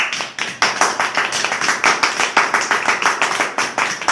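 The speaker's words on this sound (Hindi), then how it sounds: "अपने गुरु के लिए मैं ताली बजा के उनका स्वागत करना चाहता हूँ" One person clapping in welcome for a guru at a yoga talk on cancer, a quick, steady run of sharp close hand claps lasting a few seconds.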